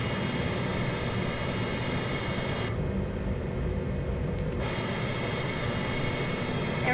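An Airbus A320 climbing out of Midway after takeoff, its jet engines a steady broad roar heard from inside, the brighter hiss dipping briefly midway, with no talking.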